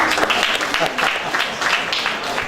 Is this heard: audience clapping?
yes